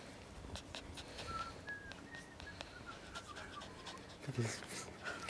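Quiet, rapid breathy panting from a dog runs throughout, with faint chirps and a soft voice murmuring in the background.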